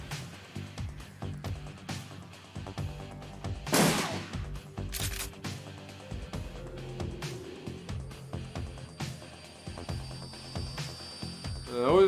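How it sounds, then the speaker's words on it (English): Burst gunfire in the video game Shadowrun Returns: several quick bursts of shots over a steady game soundtrack, with one loud crack near the middle standing out. "They got burst fire too."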